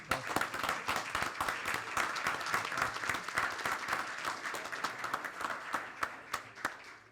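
Audience applause at a school committee meeting honoring a winning 8th-grade team, a dense burst of many hands clapping that carries on steadily for several seconds before thinning out at the end.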